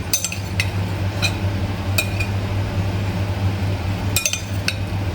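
Spoon drizzling sauce over a peasant salad with a Brazilian twist on a plate: several light, scattered clinks of metal on china over a steady low kitchen hum, close by, with no talking.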